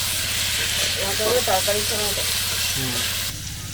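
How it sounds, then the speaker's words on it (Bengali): Young jackfruit fries in a pan, a loud steady sizzle and hiss throughout with occasional stirring, while someone talks over it. "এঁচোড়টাকেও ভালো করে ভেজে নেবো"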